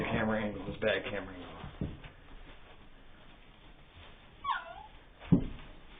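A beagle puppy gives a short high whimper and a brief yelp late on, both soft under a muffled voice and light indoor rustling.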